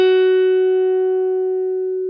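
An electric guitar note runs through a Fractal whammy pedal effect set to unison pitch, a single steady sustained tone with clear harmonics that slowly fades over about two seconds, alone without talk.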